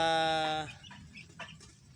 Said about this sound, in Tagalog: itong tandang na to